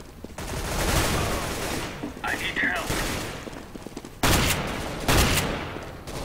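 Rapid SMG bursts from Counter-Strike: Global Offensive ring out in repeated volleys, with sharper, louder bursts near the end, mixed with game noise and voice chat.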